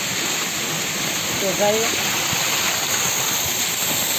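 A waterfall at Osam hill near Patanvav roars as a dense, steady wash of falling water, loud and close throughout, with a person speaking briefly over it.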